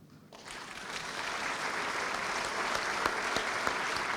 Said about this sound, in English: put your hands together in a big round of applause